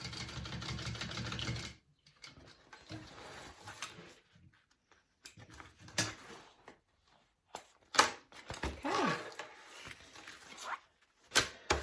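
Sewing machine stitching a pocket piece onto a unisex tote bag, a loud steady whir at the start, then quieter intermittent bursts of stitching with pauses and handling noises.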